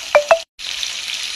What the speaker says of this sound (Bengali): এখন আলুগুলোকে লাল লাল করে প্রথম ভেজে নেব।